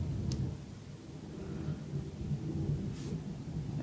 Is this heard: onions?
no